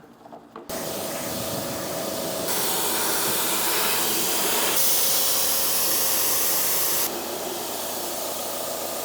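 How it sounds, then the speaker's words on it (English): A loud, continuous hiss of pressurized water rinsing a PPF and ceramic coated C8 Corvette Z06, shifting in tone as the stream moves across the surface, then cutting back slightly near the end. "Then we rinse the vehicle off."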